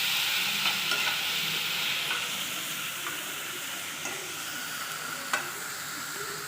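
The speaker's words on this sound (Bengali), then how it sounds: "এটাকে একটু সামান্য ভাজতে হবে, হালকা একটু ব্রাউন হয়ে আসবে।" Blended onion paste fries in oil in a pan for a prawn malai curry, giving a steady close sizzle with soft stirring scrapes throughout and no talking.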